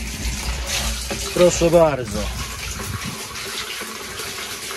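Pumped rainwater gushes out of a hose in a steady splashing stream, with someone briefly speaking over the flow partway through.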